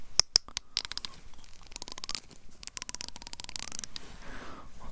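Crisp metallic snips from a pair of scissors trimming eyebrows, a few sharp cuts then a quick run of rapid clipping, close and fairly quiet.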